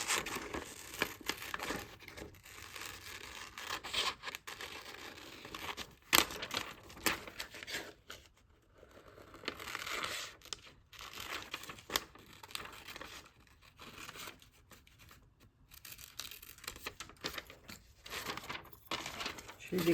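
Scissors snip and paper crinkles while cutting out paper shapes for an abstract collage, with irregular close rustling and tearing sounds and pauses, quiet and near.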